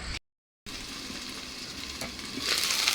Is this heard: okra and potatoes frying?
yes